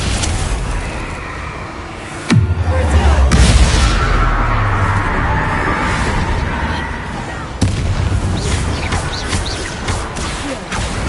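Incendio fire spell cast in Hogwarts Legacy on PS5, heard as a sudden loud whooshing burst of flame with deep rumble amid busy game ambience, followed by a second sharp impact a moment later.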